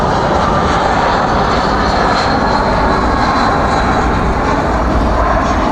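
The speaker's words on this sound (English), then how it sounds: "It is going to be the FedEx flight" FedEx jet arriving at night at DFW airport, a loud, close, sustained engine roar with a broad rushing whine that fills the whole stretch without any talk.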